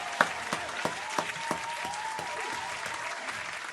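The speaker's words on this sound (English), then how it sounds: "Round of applause to them" Steady crowd applause with scattered sharp claps, fairly faint and distant, holding an even level throughout with a few louder peaks near the start.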